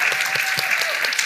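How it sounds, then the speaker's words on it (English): An audience claps steadily at a press club event with Nobel women laureates, a dense patter of many hands filling the short stretch at an even level, with no talk over it. "it is at this point that you clap for us"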